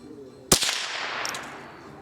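One sharp, close .22 LR rifle shot fired with high-velocity ammunition cracks out, then fades into a short echoing tail.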